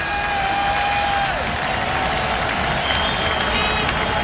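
Stadium crowd at a USA versus Mexico 2005 World Cup qualifier soccer match, a broad, sustained roar of applause and cheering, loud and unbroken, with faint whistles or horns over it.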